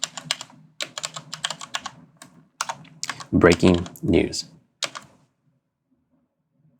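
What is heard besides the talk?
typing text on a computer keyboard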